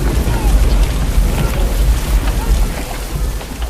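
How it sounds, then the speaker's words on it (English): A spring storm over crude muddy roads: steady loud rain hiss with deep rumbling thunder underneath, continuous and close, easing slightly toward the end. "A spring storm turns crude roads into rivers of mud."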